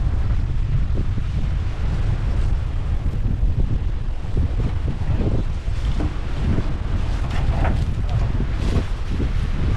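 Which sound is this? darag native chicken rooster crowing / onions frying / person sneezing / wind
wind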